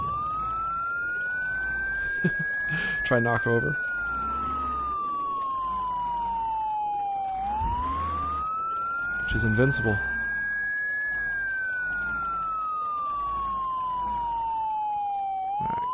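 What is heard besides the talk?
police siren in the video game Project Zomboid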